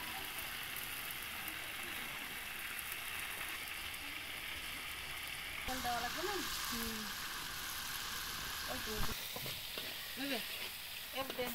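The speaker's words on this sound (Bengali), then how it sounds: "রোস্ট ভাজা চলছে।" Meat roast frying in a pan, a steady dense sizzle with stirring and scraping running the whole way, with a voice briefly audible partway through.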